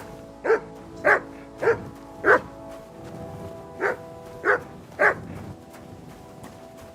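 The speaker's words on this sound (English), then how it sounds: "Oh, you pooch. Good dog, Mutz." A dog barks in a video game, Kingdom Come: Deliverance II, giving eight sharp barks close by in two quick groups, then falling quiet.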